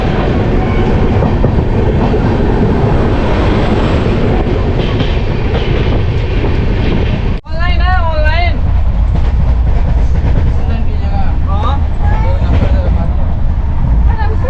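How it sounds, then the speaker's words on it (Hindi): Purvanchal Express passenger train running after pulling out of Hajipur Junction, a steady loud rumble of rolling carriages filling the whole stretch, with people talking over it and a brief dip partway through. "चल गई अपनी ट्रेन हाजीपुर जंक्शन से"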